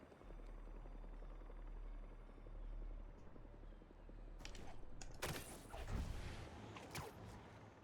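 Helicopter rotor blades thrumming in Marvel's Spider-Man 2 video game, a steady low drone throughout with loud bursts of crashing, gunfire-like impacts crowding in over the last few seconds.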